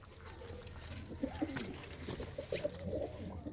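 Pigeons coo softly in a loft, several low rolling calls rising and falling over a steady background hum, fairly close but quiet.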